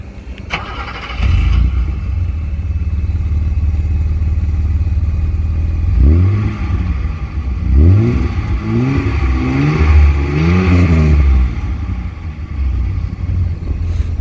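A BMW 733i with a 3.2-litre engine starts up, settles into a steady idle, then revs in several rising and falling bursts, loud and close, with no talking.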